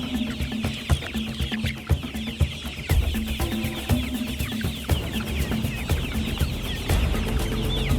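Free-range chickens clucking outdoors on a pasture farm, a dense, continuous chorus of overlapping clucks and squawks from several birds, fairly near and steady throughout.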